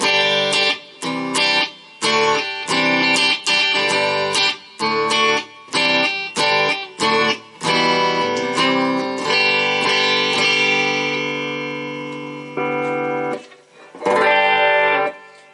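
Strummed guitar chords ring out through a Boss AC-3 Acoustic Simulator pedal with added reverb, bright sustained tones and reverb tails, played in bursts with short gaps between.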